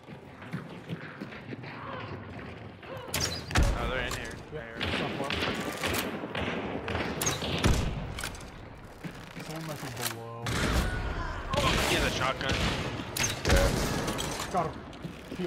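Semi-auto shotgun blasts in a video game, several sharp heavy shots fired in quick irregular succession among footsteps and clatter, with people talking over the action.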